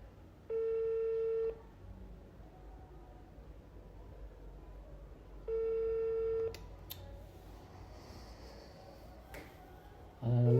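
A telephone ringback tone sounds twice, each about a second long with a long gap, over quiet background, followed by brief clicks and a short voice.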